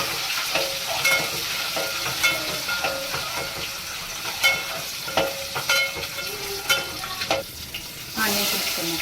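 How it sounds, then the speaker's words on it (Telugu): Eggs fry lightly in a pan with turmeric, sizzling steadily while a spatula scrapes and taps the pan in irregular bursts close by; no voices are heard. "eggs లైట్గానే వేయించాం friends"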